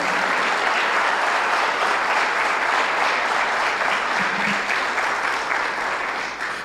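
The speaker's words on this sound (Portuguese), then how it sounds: "Você pode aplaudir Jesus por isso." A church congregation applauds together in a full, sustained round of clapping, loud and even throughout, tapering slightly at the very end.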